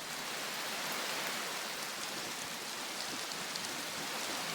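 Steady rain in the video game Prologue, a dense, even hiss of falling drops that stays constant throughout, moderately quiet with no voices.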